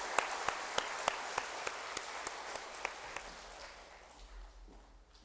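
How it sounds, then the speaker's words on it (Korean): A church congregation gives warm applause to encourage a pastor's family before their special song at a missionary sending service, with distinct individual claps over a steady bed of clapping that gradually fades. "여러분 한번 뜨거운 박수로 우리 이 목사님 특송 할 수 있도록 격려해 주시기 바랍니다"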